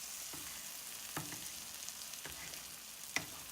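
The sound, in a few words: stirring mushroom butter masala in a pan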